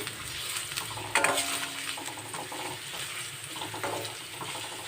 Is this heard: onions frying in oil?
yes